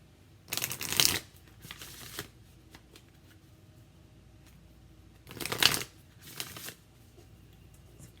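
Enchanted Map Oracle deck cards being shuffled, two close pairs of quick riffling bursts separated by a quiet pause, with no talking.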